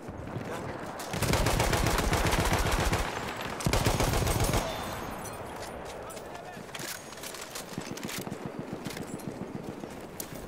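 Battlefield 1 battle with mortar fire and gunfire: loud sustained bursts of rapid shots, a pause, then another heavy burst, followed by quieter scattered firing in the background.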